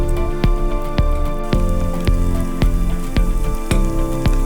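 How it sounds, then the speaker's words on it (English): Green chilies and curry leaves frying in oil, with a steady crackling sizzle and sharp periodic ticks running evenly throughout, close and fairly loud, with no talking. "In the remaining oil, I will add 5 to 6 green chilies and some curry leaves and fry them"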